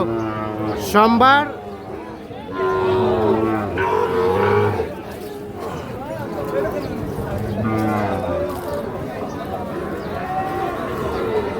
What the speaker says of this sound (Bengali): প্রচুর চাহিদা সম্পন্ন শাহিওয়াল জাতের সার বাছুর যেখানে কেনাবেচা চলছে